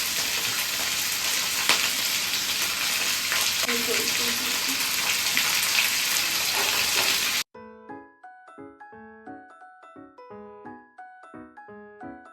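Potatoes fry in a covered pan with a loud, continuous sizzle up close for several seconds, then the sizzle cuts off abruptly and music takes over.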